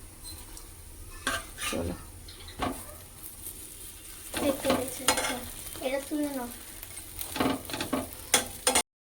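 Bread toasting in butter in a pan, with a close sizzle and frying hiss under repeated spatula scrapes and taps against the pan; a voice speaks briefly.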